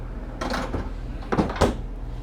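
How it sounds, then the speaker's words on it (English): The ice-collecting drawer of a basement freezer's ice maker in a 2020 Newmar Ventana 4037 motorhome slides open or shut, giving a few close scraping and thudding bursts over a low steady hum, with no voices. "So it has a drawer here where it collects the ice."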